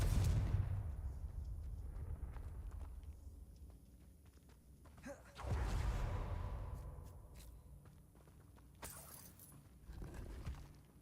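Spell explosions from a Harry Potter video game go off as a few heavy booming blasts with bright crackling debris, spaced apart over a low rumbling game background.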